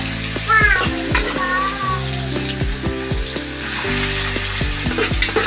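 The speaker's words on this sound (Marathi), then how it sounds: "तेल आता चांगलं गरम झालेलं आहे, त्यामध्ये आता मी स्मॅश केलेले हे गाजर टाकणार आहे." Smashed carrots frying in hot oil for carrot halwa make a close, steady sizzle, interrupted by squeaky tonal sounds and low knocks from stirring.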